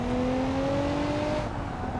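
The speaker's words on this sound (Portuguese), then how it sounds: "Eu taquei o pé no nitro ali." A car in Need for Speed surges under nitro boost, a loud, steady engine whine with a slowly rising pitch that fills the whole moment, close and continuous with no talk over it.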